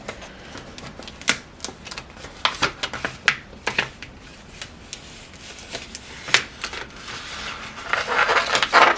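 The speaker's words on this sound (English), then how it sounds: "I'm just going to flip it over and peel away the carrier sheet" A vinyl carrier sheet is peeled away in close, crackly tearing bursts and soft rustles, irregular and fairly loud, with a longer rough rip near the end and no talking.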